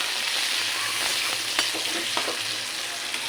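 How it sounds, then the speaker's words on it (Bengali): Onions and green chilies frying in a pan, a steady close sizzle and crackle with a few sharp spatula scrapes and pops, no voices. "এটা ভালো করে ভেজে নেব।"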